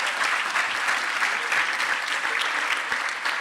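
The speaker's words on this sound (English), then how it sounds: "I think we need like a standing applause" An audience at a social justice lecture applauds, a dense and even burst of clapping that stays loud for a few seconds.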